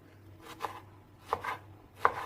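Three spaced knife chops cut eggplant into small cubes on a board. Each chop is a soft, close thud, heard alone in a quiet room.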